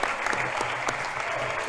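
Malvern Hornets fans in the stands clap together during the final minute of a high school basketball game countdown, a dense, steady wash of applause that holds evenly throughout without a break.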